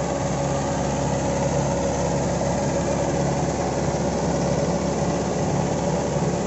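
A Mahindra 575 XP Plus tractor pulling a 7-foot rotavator runs steadily outdoors, its engine a constant loud, vibrating drone with no change in pitch and no voices.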